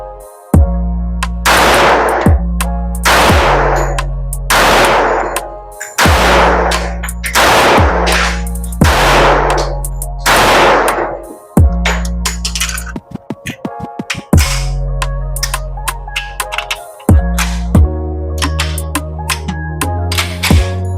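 Kimber Custom LW 1911 pistol in .45 ACP fired at a range, loud sharp shots in spaced bursts of two or three, each ringing out with a short echo before the next.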